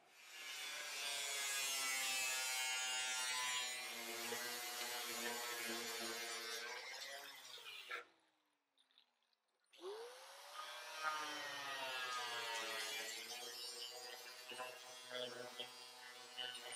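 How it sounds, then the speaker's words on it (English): A grinder shapes metal on a custom 1938 Cadillac body, its loud, steady whine running alone, then winding down to a brief near-silence before spinning back up and grinding on. "So, I'm gonna get out the grinder."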